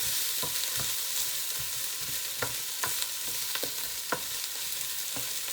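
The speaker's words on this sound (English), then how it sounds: "But I've got to fry it now long enough to get rid of the raw smell of garlic." Garlic fries in a pan with a constant sizzle, broken by a series of sharp spatula taps and scrapes at irregular intervals, close and fairly loud, with no talking.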